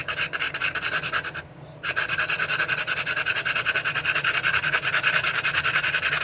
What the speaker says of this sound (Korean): 이렇게 밑에다 손을 이렇게 대고 이렇게 사포질 하시면은